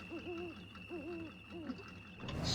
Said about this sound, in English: I don't need a flipping owl cooing at me, too.